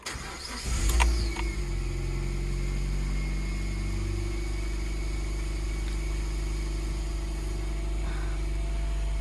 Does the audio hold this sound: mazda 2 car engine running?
yes